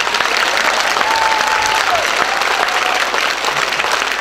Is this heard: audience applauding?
yes